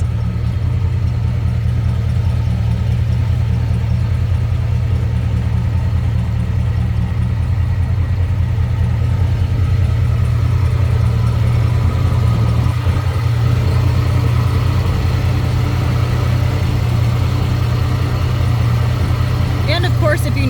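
A 1970 Lincoln Continental Mark III engine idles steadily through a new exhaust with a deep, low rumble, running evenly throughout with no revs.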